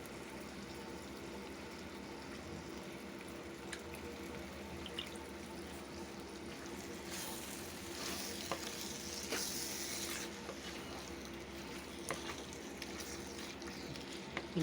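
Vegetables frying in a pan are stirred with a soft sizzling hiss, scraping and clattering briefly louder in the middle before settling back to a steady low sizzle.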